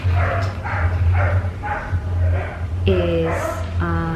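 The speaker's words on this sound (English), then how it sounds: "sorry about the dog." A dog barks and yelps repeatedly, fairly close, under a person talking, with a few higher whining barks toward the end.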